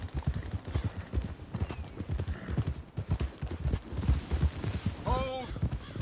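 Horse hooves clip-clop at a steady trot in Red Dead Redemption 2, close and rhythmic, with a short whinny near the end and faint voices underneath.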